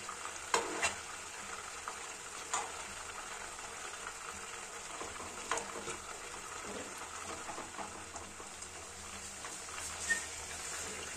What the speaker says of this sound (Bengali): মাংসগুলো কিছুক্ষণ পর পর এপিট ওপিট করে দিতে হবে এবং বাদামি বর্ণ না হওয়া পর্যন্ত খুব সুন্দরভাবে ভাজতে থাকতে হবে।